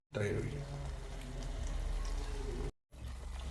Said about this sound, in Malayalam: ഇനി ഇതിനൊക്കെ കുറച്ച് തൈര് ഒഴിക്കാം